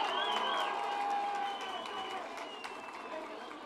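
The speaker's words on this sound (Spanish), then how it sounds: "les pido un fuerte aplauso" A crowd at an outdoor Claudia Sheinbaum campaign rally in Tlajomulco, Jalisco claps and cheers steadily, with voices rising through the dense, sustained noise, which thins slightly toward the end.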